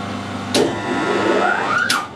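Metal lathe running during screw cutting, a steady mechanical drone with a rising whine and sharp engagement clunks as the half-nuts engage, close and loud without talk.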